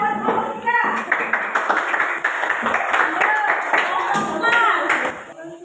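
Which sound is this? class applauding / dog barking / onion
class applauding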